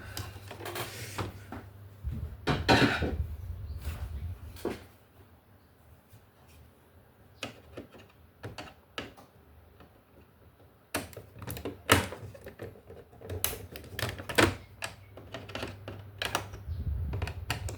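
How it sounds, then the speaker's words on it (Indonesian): Screwdriver work on the AC switch panel of a Toyota Starlet GT Turbo, removing three bolts: scattered close clicks, taps and scraping in irregular bursts, with quieter pauses between. "Ambil obeng dulu sebentar ya."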